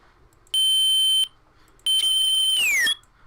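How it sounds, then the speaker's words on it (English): A loud electronic beep sound effect being edited, heard as two sharp sustained tones separated by a short gap; the second tone breaks up and slides downward in pitch before cutting off. "it just sounds like a loud beep now"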